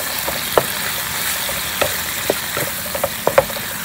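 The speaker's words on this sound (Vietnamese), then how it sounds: "Bây giờ mình bỏ tôm vô mình xào nha." Shrimp stir-fried with hot garlic in a pan for a bánh khọt filling: a constant close sizzle with scattered sharp clicks and scrapes of the utensil tossing the food.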